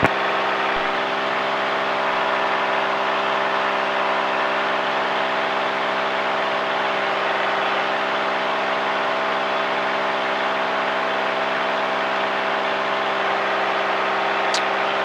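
A light aircraft engine roars steadily during takeoff from a runway, a loud, constant droning hum with strong tonal harmonics and no speech for the whole stretch.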